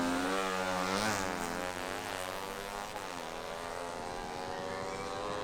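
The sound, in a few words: drag racing motorcycle engine intake sound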